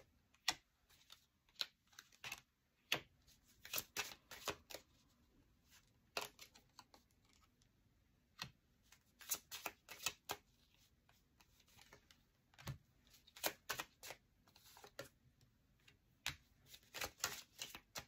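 Tarot cards being shuffled and handled in a quiet room, giving sharp papery riffles and flicks in irregular bursts, some clustered quickly together, with no talking.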